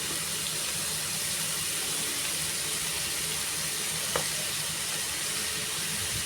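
Watermelon rind pieces fry in an oiled pan with salt and turmeric, giving a steady, dense sizzling hiss close by that barely changes, with one faint click partway through and no talking.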